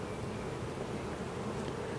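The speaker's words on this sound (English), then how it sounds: "There's quite a few bees running up and down that screen" Dense, even buzzing from many bees crowded inside a hive being cut out of a Blue Ridge Mountains cabin, heard close up as a continuous droning hum with no other sounds.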